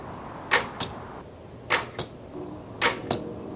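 Three pairs of sharp swishing whooshes, each a quick release followed by a softer thud, spaced evenly like arrows being shot one after another from a homemade bow.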